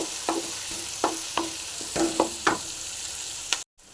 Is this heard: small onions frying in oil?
yes